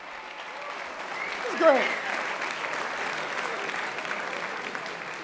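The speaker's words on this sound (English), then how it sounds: "Give him a round of applause." A crowd at the 2024 LEAFYs awards gives a round of applause, a moderate, even patter of clapping that carries on steadily, with a brief spoken voice rising over it early on.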